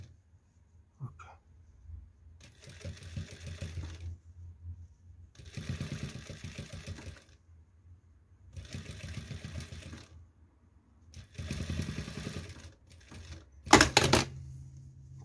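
A sewing machine stitches a zipper onto a stretch-fabric spring jacket during a repair, running in four or five steady bursts of a few seconds each with short pauses between, close and clear, ending with a sharp clack.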